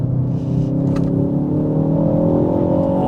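A Mk4 Ford Focus ST engine pulls hard under acceleration, a loud, steady, rising drone with a deep rumble heard from inside the car.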